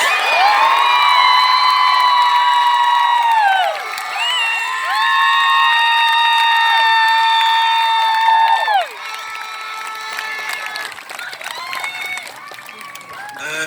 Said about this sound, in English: A big applause for Tommy Woods.